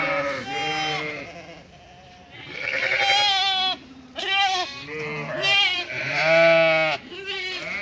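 Suckling lambs bleat repeatedly and loudly close by, several overlapping calls with brief pauses between them.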